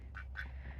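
A drake loose in a goat pen gives two quick, raspy nasal quacks close by, with a low outdoor rumble beneath and no talking.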